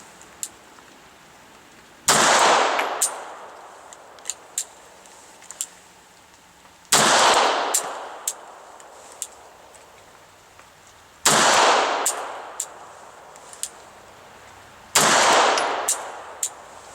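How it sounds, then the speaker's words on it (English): A Beretta 8000 Cougar pistol fires in double action: four sharp, loud reports spaced several seconds apart, each with a short ringing decay, and faint clicks and handling noises between them. "We're going to take 5 shots."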